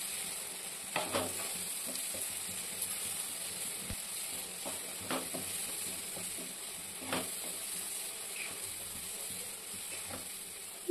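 Ginger, garlic and spices with salt, turmeric, coriander, red chilli powder and sugar sauté in a pan for paneer bhurji, a steady low sizzle with scattered scraping stir clicks throughout.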